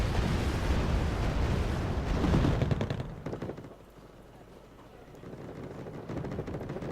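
Heavy battlefield din from Wargame Red Dragon, with dense gunfire and rumbling explosions rolling together loudly, dropping briefly before distant blasts and firing build back up.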